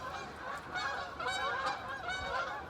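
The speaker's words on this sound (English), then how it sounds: "The wild duck are very noisy." Wild ducks call noisily in the early morning after a snowstorm in Hampton, New York, a dense, continuous chorus of honking from a flock at a moderate distance.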